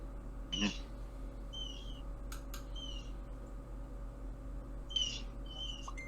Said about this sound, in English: Do I hear a bird? What am I hearing? I'm hearing a bird too.